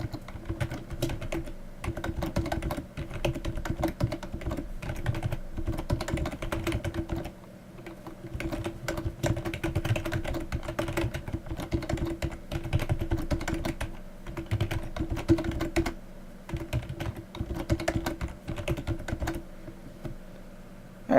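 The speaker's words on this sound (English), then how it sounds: "I recommend typing out the code from scratch rather than copying and pasting so you can better learn HTML." Rapid, continuous clatter of keys on a computer keyboard as HTML code is typed out, close and steady for about twenty seconds with brief pauses, no talking over it.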